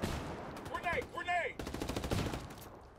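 Gunfire from a multiplayer shooter: dense bursts of automatic fire with loud sharp reports, interrupted by a brief stretch of speech-like sounds, then more rapid shots continuing.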